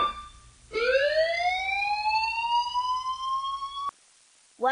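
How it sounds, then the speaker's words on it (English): A loud siren wails steadily with a rising then held tone for about three seconds, starting and stopping abruptly, with no talking. "You hear this siren?"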